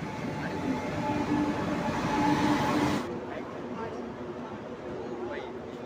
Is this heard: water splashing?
no